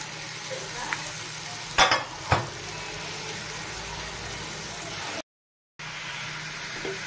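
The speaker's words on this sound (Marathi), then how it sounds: "आता ह्या सगळ्यामध्ये मी फरसबी जी कापून घेतलेली ती टाकून देते." Chopped green beans stir-fried in a pan, with a steady low sizzle and a couple of sharp clattering stirs early on, close, then a brief gap of silence before the frying resumes.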